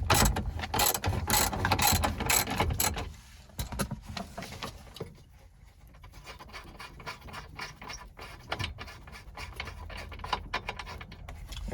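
A hand ratchet with a 16 mm socket clicks rapidly while loosening a bolt during dash removal on a 1983 El Camino, in bursts of fast pawl chatter separated by brief pauses, close up and fairly quiet.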